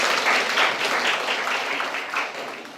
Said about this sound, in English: Applause for Management Study Program.